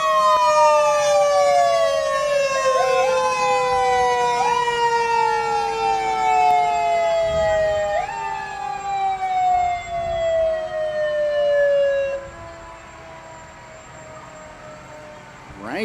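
A fire truck siren at a Fourth of July parade wails loudly and steadily, its long tone repeatedly sliding downward in pitch before winding back up, then fading as it winds down.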